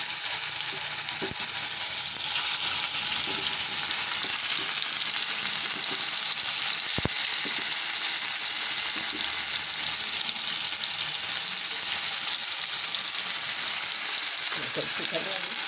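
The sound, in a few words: greens frying in hot oil while stirred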